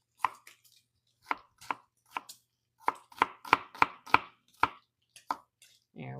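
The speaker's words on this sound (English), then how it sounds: "We're going to give it a small mince, and we're going to let that caramelize in with the bacon." A knife mincing ingredients for baked beans on a cutting board gives a quick series of sharp, close chops in uneven bursts, with short pauses between groups and no talk.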